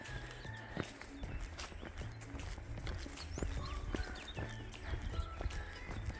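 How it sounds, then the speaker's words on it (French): Horses walk along a coastal hiking path near Saint-Jacut-de-la-Mer, their hooves clip-clopping in an uneven, fairly close rhythm over faint outdoor ambience. "Il y a des chevaux?"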